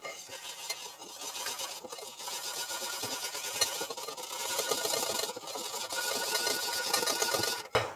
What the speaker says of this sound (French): On va commencer par fouetter ceci déjà.